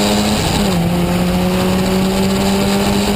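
Historic Formula Ford race cars at Cadwell Park heading into Barn Corner, the final corner of the lap, their engines droning loudly and continuously, with the pitch dropping under braking and then holding steady.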